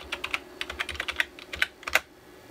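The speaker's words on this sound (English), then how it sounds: "just type ping, oh, I don't know, www.google.com" Typing a ping command on a computer keyboard in a command prompt, a quick run of crisp key clicks in an uneven burst, close and clear with nothing else over it.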